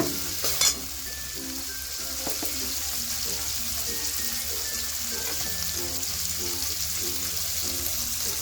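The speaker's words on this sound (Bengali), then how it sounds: "ঠিক এই পর্যায়ে দিয়ে দেবো আগে থেকে কেটে রাখা এই চিংড়ি মাছগুলোকে, ছোটো করে কেটে রাখা চিংড়ি মাছ" Chopped prawns fry and get stirred through a spice mixture in a pan, making a steady close sizzle with repeated scraping stirs and occasional clinks, and no one speaking.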